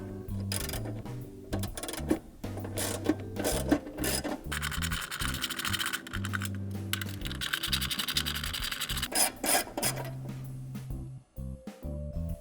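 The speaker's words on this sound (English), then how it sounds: "get a 5/16" socket wrench and remove these 2 screws" A 5/16-inch socket wrench ratchets and rasps as it backs out two screws holding the cover of an AquaRite pool chlorinator control unit, giving steady, close scraping clicks with brief pauses between them.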